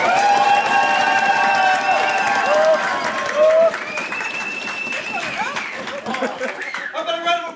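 Audience applause and cheering fill a motivational talk venue, with a dense crowd of clapping, whoops and chatter, loud and sustained, fading somewhat toward the end, while voices rise over the noise.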